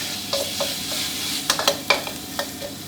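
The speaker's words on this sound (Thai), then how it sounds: "กระเทียมพริกไทยรากผักชีครับ นำลงมาผัดให้หอมก่อนเลยนะ" Garlic, pepper and coriander root stir-fried in a hot wok, loud oil sizzle with several sharp spatula scrapes and clacks at irregular intervals, close up and without speech.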